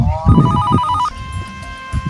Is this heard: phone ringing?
yes